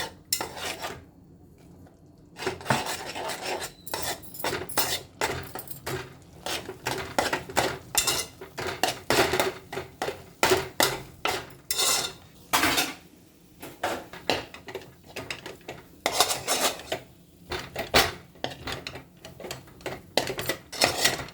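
Rice flour being stirred into cooked chana dal in a metal pot, a steady run of scraping and clinking spoon-on-pot strokes with brief pauses, close and fairly loud.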